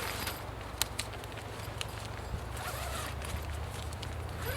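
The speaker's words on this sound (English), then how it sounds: "it's got this full zipper screen here." A zipper on a Jeep's fabric bug screen is pulled slowly, a soft ratcheting rasp with a few clicks, close by and fairly quiet against a low background hum.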